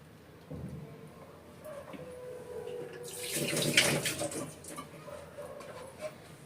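Kitchen tap water running while eggs are washed, a soft trickle that swells into a louder gushing splash midway and then eases, close by with no talk.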